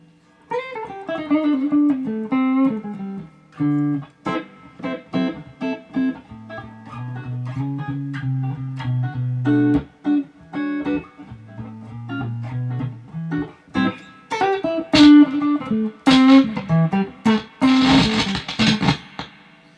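A 1969 Gibson ES-330 electric guitar through an old amplifier plays a melodic line with a slightly distorted, gritty tone, notes ringing with sustain and some quick strummed bursts near the end.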